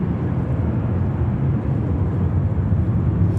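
Airbus A330 jet taking off at JFK Airport, a steady low rumbling engine roar heard up close with no gaps.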